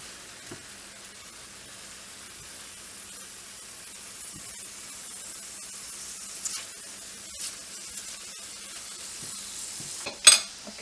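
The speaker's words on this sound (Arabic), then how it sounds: "غادي نخليها غير تسوطي واحد شويه ديال 5 دقائق" Vegetables sautéing in a pan for stuffed acorn squash, a faint steady sizzle with occasional soft clinks and a sharper scrape of a utensil near the end.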